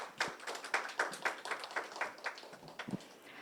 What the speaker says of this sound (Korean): 좋은 발표해 주신 정희영 선임님께 다시 한번 큰 박수 부탁드립니다.